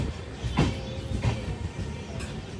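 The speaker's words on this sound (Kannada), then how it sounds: "ಟ್ರೈನ್ ನೋಡಿ ಹೆಂಗೆ ತಿರುಗ್ತಾ ಇದೆ" Train 16206 from Mysuru to Talguppa rolls along near Hole Narasipura with a low rumble and soft rhythmic rail clicks, heard from aboard, with no talking.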